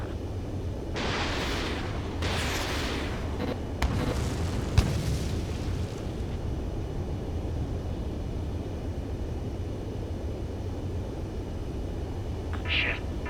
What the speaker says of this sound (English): It's an air raid. We're being attacked by enemy aircraft.